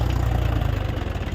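Mahindra 265 DI tractor, about 40 horsepower with power steering, straining as it drags a dolly loaded with soil across a field; a steady, loud low diesel throb with rhythmic pulsing, close by and continuous.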